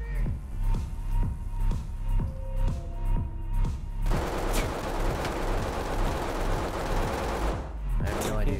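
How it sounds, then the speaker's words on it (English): Gunfire crackles through a wall in the tactical shooter Ready or Not, a steady stream of close, sharp shots, sparse at first and then in dense rapid bursts, with brief radio-style voices underneath. "he's shooting through the wall"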